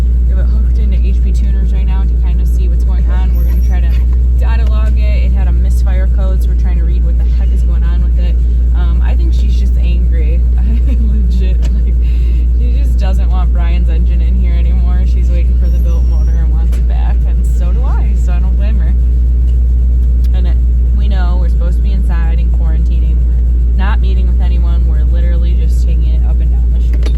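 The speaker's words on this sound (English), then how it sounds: "that is the normal sound of my transmission" Ford 10R80 automatic transmission running in a vehicle with a misfire code, a loud constant low drone and rumble heard from inside the cab, with someone talking over it throughout.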